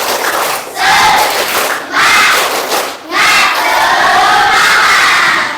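Students in a classroom doing a spirited group clapping chant, loud, close bursts of clapping mixed with shouted unison voices in three energetic phrases separated by brief dips.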